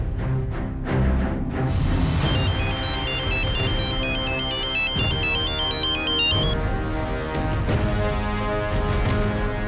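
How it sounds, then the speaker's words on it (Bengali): A phone ringtone plays continuously, a bright repeating electronic melody with a steady pattern of tones over a backing rhythm, fairly loud and close, with no talking. "সিলভাকে তুমি ফোন করো।"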